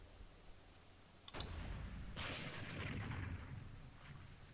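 Tank assault on an enemy rifle platoon in the hex-based turn-based wargame East Front 2: a sharp double crack of gunfire followed by a rumbling explosion-like blast that swells and slowly fades, with no talk.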